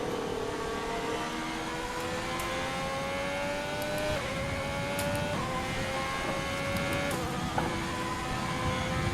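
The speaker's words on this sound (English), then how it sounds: "Coming up to Parabolica now in 8th gear, braking into 5th." An F1 car in the F1 2020 racing game brakes hard from eighth gear down to fifth for Parabolica, its engine pitch stepping down with each quick downshift over a continuous whine.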